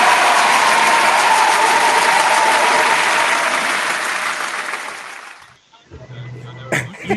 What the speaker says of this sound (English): Round of applause for the Mash Out Posse.